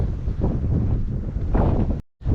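Strong wind buffets the microphone on the exposed hilltop at Ros Castle during a wild camp, a loud, rough roar with gusty surges that cuts out briefly near the end.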